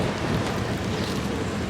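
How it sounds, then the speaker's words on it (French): Strong hot wind in the Dubai desert roars steadily into the microphone as a dense, loud, unbroken rush with no voices. "Il y a du vent à mort."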